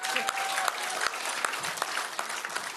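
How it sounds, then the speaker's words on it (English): Studio audience applause during live 2022 Australian federal election night coverage, a steady broadband clatter of many hands clapping throughout, with faint voices mixed in. "Give him a clap."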